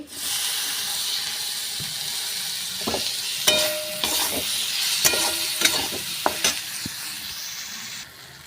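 Chopped tomato goes into a hot pan of frying dal tarka and is stirred, a constant sizzle with scattered sharp scrapes and clinks of the spoon against the pan, close and fairly loud.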